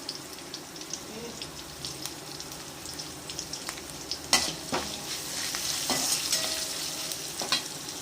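Curry leaves, green chilli and asafoetida frying in hot oil for lemon rice, a steady close sizzle with occasional stirring scrapes and crackles that grows a little louder toward the end.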